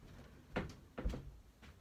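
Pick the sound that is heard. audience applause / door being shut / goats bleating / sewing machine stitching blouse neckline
door being shut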